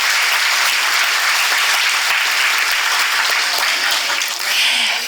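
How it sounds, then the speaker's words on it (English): Loud, sustained applause fills the room from an audience at the Wayne County Area Chamber of Commerce annual dinner, a dense steady wash of many hands clapping with no voices standing out. "So can we just give them a loud clap?"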